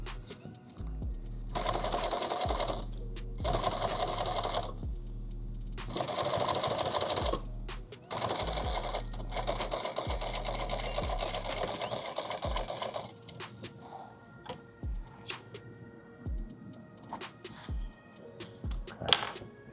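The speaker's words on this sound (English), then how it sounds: "pull a little, stitch a couple, pull a little, stitch a couple, little bites" Sewing machine stitching a bag in short, rapid bursts separated by pauses, then lighter scattered single stitches and clicks toward the end, close and clear with no talking.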